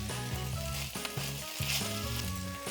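Spam sizzles and fries in a hot pan for kimchi fried rice, a steady close crackle broken by stirring and scraping sounds.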